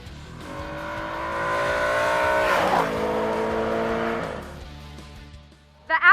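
An Audi RS5's 4.2-liter, 450-horsepower V8 drives close by, its loud engine note climbing through the revs, holding, then falling away over several seconds, with a brief sharp noise at the very end.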